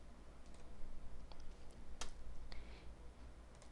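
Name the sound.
computer mouse clicking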